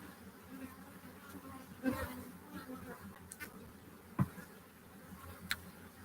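Honey bees buzz faintly around a hive, a low continuous hum with occasional louder passes of single bees flying close, alongside a few soft handling knocks.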